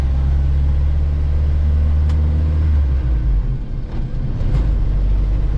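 Jeep Wrangler YJ with an AX-5 manual transmission driving slow test laps after a fluid change, a steady close engine drone and low rumble with shifting engine note midway.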